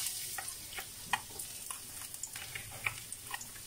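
Garlic sautéing in cooking oil for pork rib caldereta, a faint steady sizzle broken by light, irregular ticks and scrapes from stirring.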